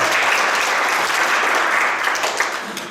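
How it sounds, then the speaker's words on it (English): Audience applause at a temple children's program, a steady wash of many hands clapping at moderate level that tapers slightly near the end. "How come the clapping is not loud at all?"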